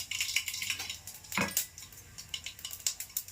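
A cooking pot is set down on a home kitchen stove with a single clear clunk, surrounded by lighter clinks of cookware and utensils.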